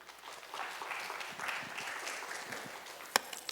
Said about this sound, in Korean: 큰 박수로 청해 듣도록 하겠습니다.